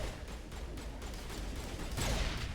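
Gunfire from Mass Effect Legendary Edition comes as a quiet, continuous spray of rapid shots, growing slightly louder toward the end.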